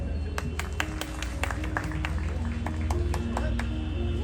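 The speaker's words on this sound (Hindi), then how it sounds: "हम सब तालियों से उनका स्वागत करें" Audience applause welcoming Bhagyashree at the Delhi Star Award 2022 ceremony in Delhi: dense, steady clapping from a seated crowd over a continuous low hum, with a few sharper individual claps standing out.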